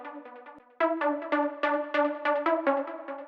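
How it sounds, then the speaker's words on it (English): Supersaw trance pluck synth with effects plays a rhythmic pattern of short bright harmonic notes, a sustained tone leading into repeated punchy plucks that tail off with reverb, alone and fairly loud. "it's playing this typical supersaw trance plug. Simple sound, but it usually works really well."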